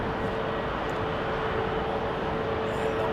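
An Airbus A330 airliner climbs out after takeoff from London Heathrow with its undercarriage retracting, a steady, loud, broadband jet roar with a faint tonal whine running through it.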